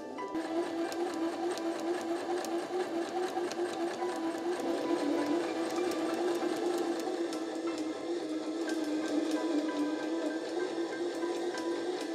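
A sewing machine zigzag stitches along the raw edges of apron fabric to stop fraying, running steadily and close up for the whole stretch with no pauses.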